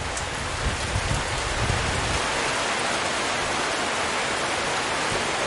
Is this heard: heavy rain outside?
yes